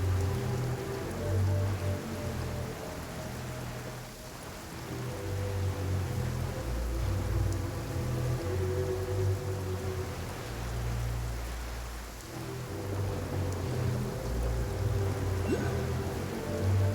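Steady rain falls in a Genshin Impact game scene, a dense constant patter with low rumbling underneath that swells and eases slightly.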